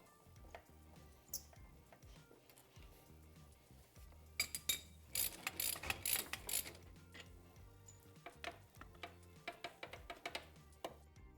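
A ratchet wrench undoing the brake master cylinder on a Yamaha Raptor 700 ATV: close, quick bursts of clicking ratchet pawls, loudest in the middle, with faint metallic clinks before and after.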